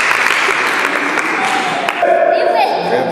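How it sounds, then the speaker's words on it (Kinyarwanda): Crowd of children and adults clapping together at a charity donation event, a dense steady patter with voices mixed in and a brief whistle-like tone near the end. "bakomera amashyi"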